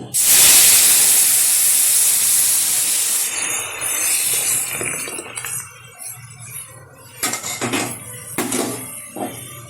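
Boiled dal poured into hot oil with fried whole cumin for a garlic dal makes a loud, close burst of sizzling hiss that slowly fades, followed by a few clinks of a utensil against the pot.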